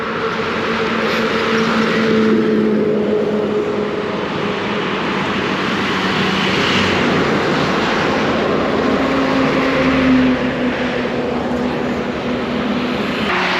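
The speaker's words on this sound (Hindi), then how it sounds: "देखो मेरे पीछे ट्रैफिक" Steady broadband roar of road traffic and engines passing behind a motorcyclist on a Hero Splendor Pro riding from Surat to Ujjain, continuous and fairly loud with wind rush, no talking.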